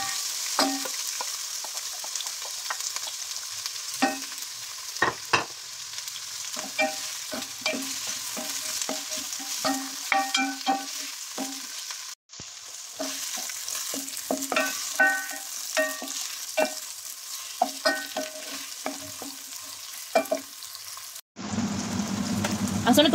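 Onions sizzling in hot cooking oil, a steady close crackle broken by repeated scraping stirs, briefly cutting out twice, with no talking.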